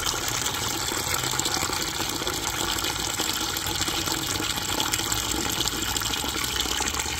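Ordinary chlorinated tap water pours steadily from a faucet, a constant rushing hiss that continues unbroken throughout, with no voices.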